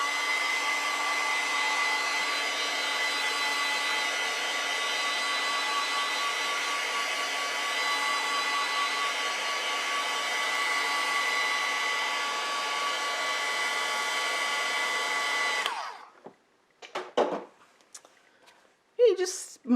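A hair dryer runs steadily and loudly for about fifteen seconds while drying an ink and wash flower painting, then switches off, leaving a few soft handling clicks and rustles.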